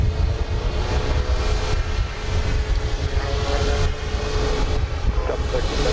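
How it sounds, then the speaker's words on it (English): Boeing 737 jet departing on a runway at Dallas Love Field, a continuous broad engine roar at steady loudness, heard from a distance. "Cross-wing service for that departing 737, runway 31 right, clear to take off"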